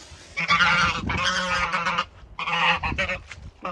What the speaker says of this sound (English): geese are mad today.